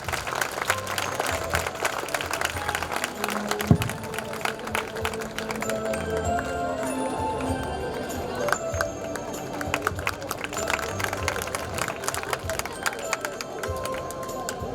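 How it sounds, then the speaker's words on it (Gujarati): Audience at a school function in Aadrsh Vidhyalay applauding steadily for about fifteen seconds, a dense crowd of clapping hands with scattered murmurs underneath. "એકવાર સૌના માટે જોરદાર તાળીઓ પાડીશું"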